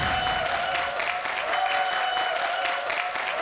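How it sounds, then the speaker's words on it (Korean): Steady applause from a studio audience welcoming the lecturer Hwang Hye-rin, director of a mathematics research institute, onto a talk-show stage; dense, even clapping fills the whole stretch with no voices over it. "황혜린 소장님을 큰 박수로 모시겠습니다"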